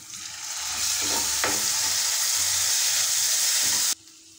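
Browned onions with mustard paste just added sizzle and fry steadily in hot oil while being stirred, cooking pumpkin-vine greens (ranga lau tips) at close range. A few soft scrapes sound partway through, and the sizzle stops abruptly near the end.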